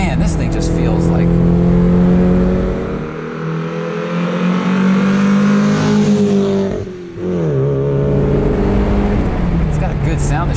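A Mercedes 190E engine pulls hard while driving, a loud steady drone that rises in pitch, dips briefly as a gear shifts, then climbs again, heard from inside the car with no talk.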